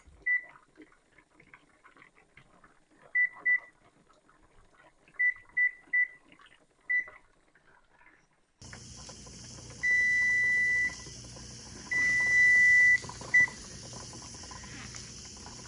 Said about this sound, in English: And I'm going to set my timer for 90 minutes.